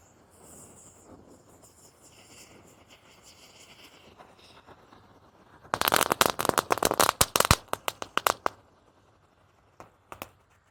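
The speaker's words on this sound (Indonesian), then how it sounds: "mercon Happy Flower Disco Pretek. Kita nyalakan 4 biji sekaligus berhadapan." Four Happy Flower Disco firecrackers, lit at once, burst into a dense volley of sharp, loud crackling pops lasting about two seconds after a quiet lead-in, followed by a few scattered late pops.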